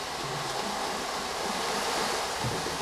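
A continuous wash of rolling, hissing rattle like surf on a shore, made by many small beads sliding across the drumhead of an ocean drum made from recycled PET bottles.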